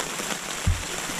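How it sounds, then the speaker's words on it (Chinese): Rain falls steadily on a tent at night beside Kinney Lake in the Canadian Rockies, a constant close patter with one brief low thump partway through. "那帐篷外面都有雨的声音"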